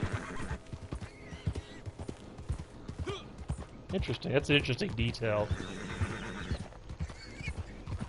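A frightened horse whinnies in the video game Red Dead Redemption 2, a shrill neigh that rises and then slides downward, amid hoof clip-clops and other game sounds, while someone talks over it.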